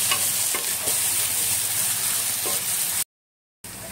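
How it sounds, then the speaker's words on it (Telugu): Chicken with tomatoes fries in a pan with a dense, steady sizzle and a few light stirring clicks, then cuts to a short silence before the sizzle resumes. "ఇప్పుడు కొద్దిగా టమాటాలు వేసుకోవాలి సరి కలుపుకొని ఈ మంచిగా బ్రౌనీ అయ్యే వరకు ఉడకబెట్టుకోవాలి"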